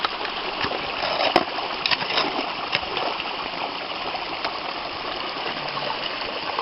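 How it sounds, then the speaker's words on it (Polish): Water rushes and gushes steadily into an underground passage outdoors by a small stream, a continuous broadband flow with a few sharp splashes. "woda teraz chodzi do podziemnego chodnika"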